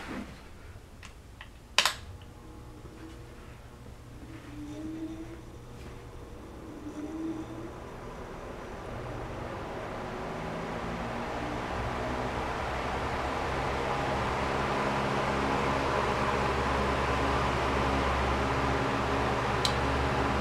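A Robbins & Myers C-16 16-inch oscillating fan runs on high speed, a faint, steady whir and airy hiss that builds gradually after a sharp click near the start.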